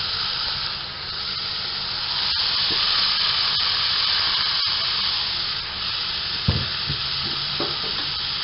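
Horse gram (kulthi) is tipped into a pan of frying onions, producing a continuous hiss and sizzle punctuated by a few sharp clacks and scrapes from stirring.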